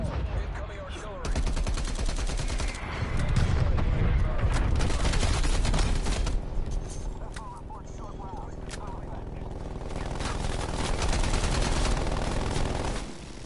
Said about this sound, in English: Artillery targeting detected. Ten call. Incoming artillery.